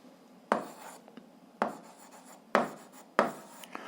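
Pen writing on paper while solving a grade 8 algebra exercise with fractions: four distinct bursts of scratchy strokes at a steady pace, close and clear with no talking.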